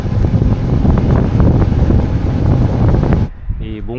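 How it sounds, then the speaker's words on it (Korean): Strong wind buffeting the microphone while cycling along a coastal road on Prince Edward Island, Canada, a loud continuous roar that cuts off abruptly near the end, followed briefly by a voice. "오늘도 역시나 바람이 세네요."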